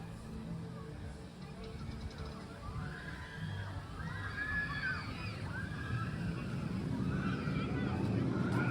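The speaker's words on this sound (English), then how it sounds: "a wonderfully named river rapids ride called Grand Rapids" Water rushes on a river rapids ride at an amusement park in Michigan. The broad wash swells louder toward the end, under faint voices and wind.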